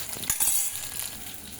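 Sliced vegetables frying in a pan until browned, a soft steady sizzle with a brief louder burst near the start, alone without talk.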